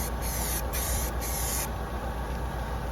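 Steady hiss of a spray gun or aerosol coating a panel on a rotten Nissan Micra K11 in a garage, continuous and close with brief pauses in the spray, no talking.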